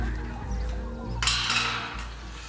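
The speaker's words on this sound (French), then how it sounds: "Elles sont juste à côté, on les entend." Hens clucking softly nearby in a farm enclosure, with scattered low clucks under a faint rustle and a brief louder burst in the middle.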